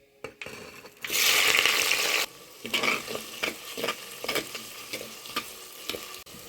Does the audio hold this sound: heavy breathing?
no